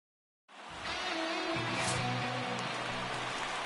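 Rain in the MLB The Show 19 baseball video game begins abruptly and settles into a steady, full hiss of rainfall over a low, tonal background hum.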